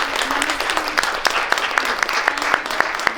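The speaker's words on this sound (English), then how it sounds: "They would love to applaud you." Audience applause fills a felicitation ceremony at a women's achievement event, a dense crowd clapping steadily with sharper individual claps standing out, fairly close and continuous throughout.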